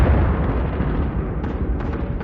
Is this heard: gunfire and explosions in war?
yes